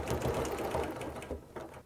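A sewing machine stitching quilt binding through batting, a close, continuous rapid whirring and clatter of the needle that slows slightly toward the end.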